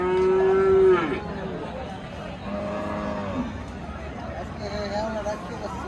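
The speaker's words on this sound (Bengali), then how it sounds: "অনেক গরু উঠেছে হযরতপুর হাটে" A cow lets out a long, loud moo up close at the crowded Hazratpur cattle market in 2024, followed by fainter lowing amid steady market babble, with someone talking throughout.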